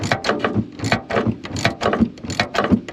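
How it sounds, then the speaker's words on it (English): A socket wrench ratchets down the top nut of a front shock on a 2000 Ford F-250. The clicks come in quick, repeated bursts, close and fairly loud. "I got my socket on the top, and I'm just gonna ratchet down"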